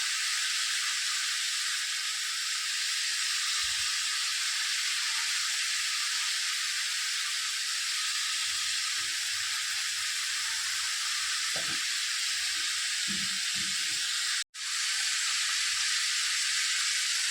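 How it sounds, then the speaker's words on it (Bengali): Cabbage and onion frying gently with ground spices in a covered pan, a steady soft sizzle and hiss running throughout, close and even, with a few faint clinks and a brief dropout near the end. "বাঁধাকপি আর পেঁয়াজ একটু হালকা হালকা ভাজা ভাজা হয়ে গেলে"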